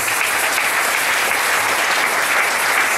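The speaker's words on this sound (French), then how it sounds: "Est-ce qu'on peut acclamer les secrétaires?" A church audience applauding the secretaries at a sermon gathering: steady, loud, dense clapping from a large crowd, sustained evenly for the whole stretch with no voices over it.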